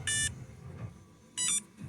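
Two bursts of high electronic beeping from a Losi 1970 Chevelle 1/16 no-prep RC drag car's ESC on startup, each short tone cluster separated by about a second of quiet, close and clear.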